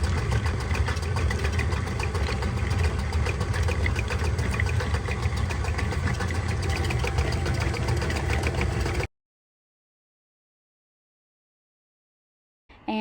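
A rock tumbler loaded with rocks runs its stage 1 grind as a steady, loud mechanical rumble and hum for about nine seconds, then cuts to silence.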